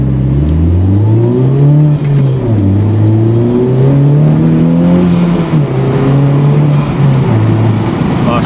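A Honda car fitted with a downpipe exhaust accelerates hard and continuously, with engine pitch climbing and dropping through gear changes. The loud, steady engine drone fills the whole stretch with no talk over it.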